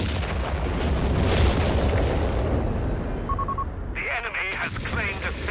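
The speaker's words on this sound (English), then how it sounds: "Another howitzer destroyed." Howitzer destroyed in a Company of Heroes 3 battle: continuous rumbling booms and crackling gunfire fill the scene, with a short electronic tone and bright metallic clatter near the end.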